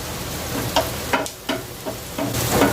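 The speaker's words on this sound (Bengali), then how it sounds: "পেঁয়াজ, আদা, রসুন বেশ ভালো করে একসাথে ভেজে নিলাম।" Chopped onion, ginger and garlic sizzling together in a hot pan, a steady close fry broken by several quick stirring scrapes.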